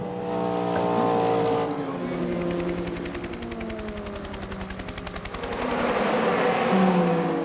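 A Hertz Team Jota Porsche 963 prototype races at the 24 Hours of Le Mans on the Porsche Curves. Its engine note climbs and shifts through a steady, buzzing drone that swells loud as the car passes close.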